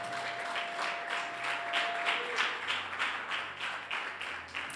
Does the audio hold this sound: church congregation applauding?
yes